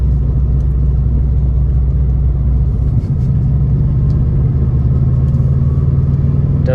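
A 300,000-mile Subaru WRX Bugeye engine drones and rumbles steadily from inside the car during a tuning pull, loud and continuous with a low, even tone, with no talk.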